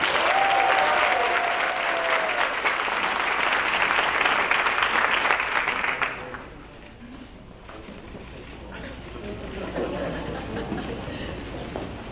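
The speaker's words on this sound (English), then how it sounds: "let's give all these outstanding teachers another round of applause." An audience at a school district board meeting applauds honored teachers, a loud, sustained round of clapping that stops abruptly partway through, leaving quieter room noise and murmuring voices.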